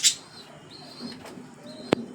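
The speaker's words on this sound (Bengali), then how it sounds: "এটা হচ্ছে মাদা পায়রা" A female pigeon gives a few soft, close coos and chirps in a quiet setting, with one brief sharp knock near the end and no talking.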